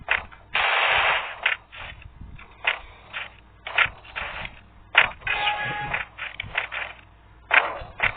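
An Uzi in the Free Fire game fires in a series of short, sharp automatic bursts with brief gaps between them, loud and close, alongside clicking weapon-handling sounds.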